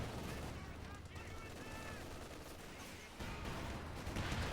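Gunfire in a Company of Heroes 2 battle, Wehrmacht against UK forces, as a steady crackle of shots and explosions with a game commentator talking over it throughout.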